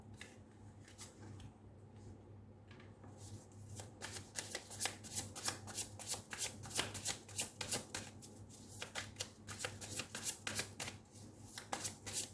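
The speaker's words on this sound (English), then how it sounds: "we'll take out 6 cards, whatever cards fall face down" Close, quiet shuffling of a tarot deck: soft sliding and riffling at first, then a long run of rapid, crisp card slaps and flutters over a low background hum, with no voices.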